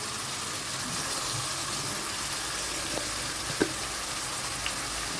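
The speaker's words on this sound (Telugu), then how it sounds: "ఇది వేగుతూ ఉంటుంది." Chicken seasoned with salt and turmeric fries in a pan, a steady, soft sizzling hiss with occasional small pops, close but fairly quiet, with no talk over it.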